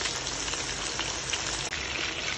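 Fish or pork pieces frying in a pan for brown stew, a loud, dense, steady sizzle close up, with no talking.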